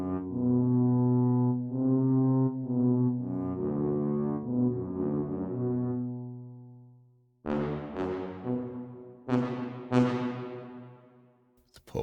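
A brass sample from the Spitfire Symphony Orchestra library, played through a single microphone mix: full, sustained low brass chords swell and shift, then give way to several sharp, accented stabs that ring out. No one talks.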